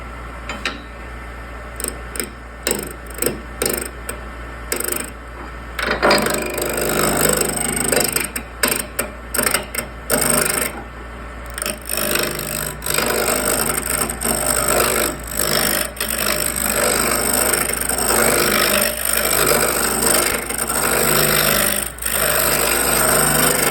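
An antique roughing gouge cutting a small wooden bud vase blank spinning on a lathe, a loud close rattling, chattering scrape in uneven bursts over a steady motor hum, becoming more continuous later.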